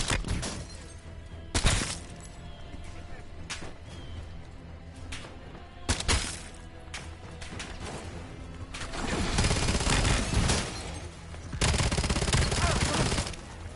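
Gunfire in the Call of Duty Black Ops 7 campaign, bursts of shots with heavier sustained firing toward the end, mixed with game sounds and a voice talking.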